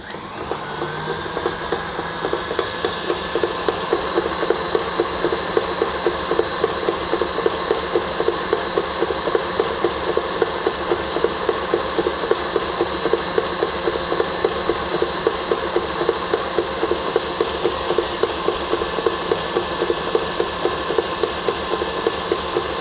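An electric mixer runs at medium-high speed beating eggless chocolate cake batter, giving a continuous close motor whir with a faint rhythmic churn that holds steady for over twenty seconds.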